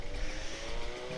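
A two-stroke Kawasaki Ninja RR 150 motorcycle idles while warming up before a night ride, a steady close low engine rumble with a buzzy, even exhaust drone and no talk.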